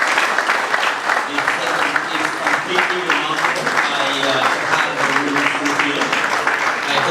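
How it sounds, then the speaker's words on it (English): An audience at an evening rural electrification dialogue applauds steadily in a dense, continuous patter of claps throughout, with someone speaking over it. "can we first of all just give them a round of applause?"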